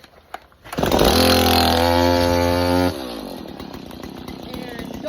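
Stihl MS170 chainsaw firing up after a pull and revving high with a steady buzzing whine, then dropping to a lower idle as a voice speaks over it.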